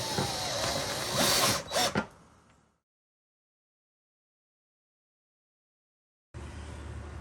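A power drill bores holes for AC and heater ports in a rooftop tent. A loud, close whirring burst lasts about two seconds, falls silent, and then a lower machine noise comes back near the end.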